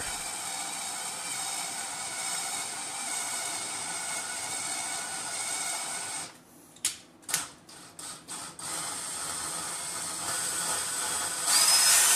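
A small power drill enlarges holes in the clamp parts of a Sky-Watcher AZ-GTI telescope mount, giving a steady high whine that stops abruptly and is followed by a few sharp clicks and taps before the tool starts up again.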